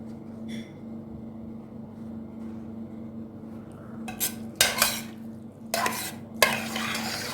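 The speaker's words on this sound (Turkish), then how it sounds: "Her koyuşumda karıştırıyorum ki yani yağ dibine çöküyor ya ortak bir şekilde bölünsün diye" A cake mixture being stirred in a pot while it is ladled, giving several short bursts of scraping and splashing from a spoon in quick succession after a quiet stretch with a low steady hum.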